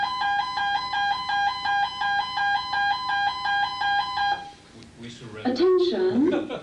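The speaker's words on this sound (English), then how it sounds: "the fire alarm is about to be tested" A hotel fire alarm under test sounds a loud two-tone warble, alternating rapidly and steadily for several seconds, then stops as a recorded announcement voice begins speaking.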